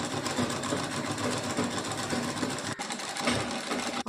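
A sewing machine stitches the crotch seam of a child's palazzo trousers, giving a rapid, even mechanical rattle at close range with a brief pause near the end.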